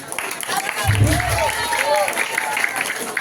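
An audience at a Balinese Cupak performance at Pura Dalem in Jelekungkang, Bangli, claps in a steady, moderately loud ripple of applause while a person talks over it.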